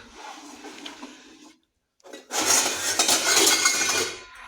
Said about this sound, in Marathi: सुरुवातीला परात वगैरे बघतो इथं भांडी ठुलेत